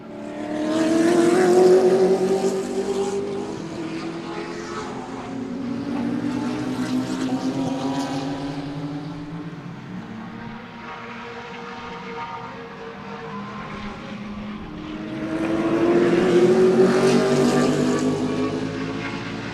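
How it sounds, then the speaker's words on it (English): Race cars circle the Sebring circuit, their engine notes swelling as they pass and fading into the distance, heard from trackside at moderate volume with no talk over them. "What a pretty race car, man."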